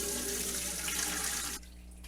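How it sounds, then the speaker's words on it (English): Chicken stock drains through a strainer lined with cheesecloth into a pot, a steady close liquid pour and trickle that stops abruptly near the end, leaving quiet room tone. "we have our stock that we're going to filter through here"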